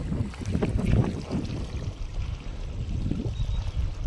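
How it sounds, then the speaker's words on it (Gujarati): Water pours steadily from a cement pipe into a farm field basin, a near, churning low roar that swells and eases slightly, with wind rumble mixed in. "પેલી પાણી ચાલુ કરી દીધું છે,"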